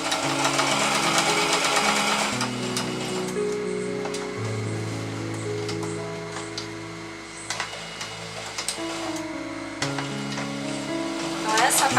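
A sewing machine stitching fabric for a doll carrier, running in bursts of fast mechanical whirring that start and stop, close and loud, with a few clicks between runs and some slower stretches.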